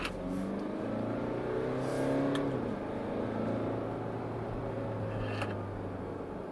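A 2017 Jaguar F-Pace's 180-horsepower turbocharged engine hums steadily and builds slightly in pitch while accelerating, a low continuous drone heard from inside the vehicle, with no one talking.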